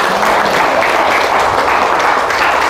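Applause from a church congregation in Malvar, Batangas, a steady dense wash of many hands clapping at a loud, even level throughout.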